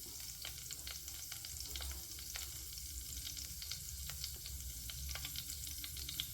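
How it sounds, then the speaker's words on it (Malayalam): Mustard seeds crackle and pop in hot oil for a fish curry, with dense, irregular sharp snaps over a steady sizzle, close and fairly quiet, with no talking. "നമ്മുടെ കടുകൊക്കെ പൊട്ടിയിട്ടുണ്ട്"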